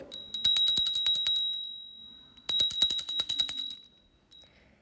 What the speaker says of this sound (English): Who is ringing this bell?